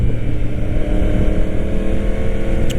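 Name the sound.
1000cc motorcycle riding on the freeway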